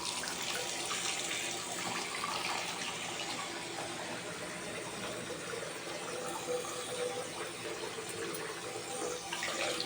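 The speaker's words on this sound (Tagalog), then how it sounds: "tubig galing sa gripo." A kitchen faucet runs steadily into a sink with a constant close splashing hiss, unbroken the whole time while chicken adobo is being cooked.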